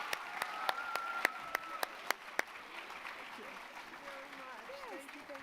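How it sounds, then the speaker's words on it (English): Audience applauding a Congresswoman at a youth town hall event, a dense wash of clapping with a few sharp claps standing out early, fading down as a speaker's voice begins underneath. "So let's do another round of applause for Congresswoman."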